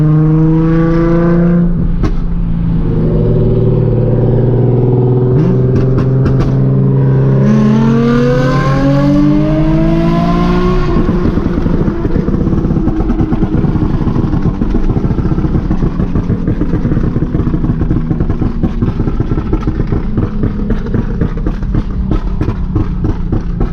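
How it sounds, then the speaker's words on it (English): A Nissan 350Z revs hard and loud up close, its engine note rising in sweeping pulls before settling into a rough, burbling exhaust with crackling pops and sputters, with no voices over it. "If you guys don't know, my car pops a lot."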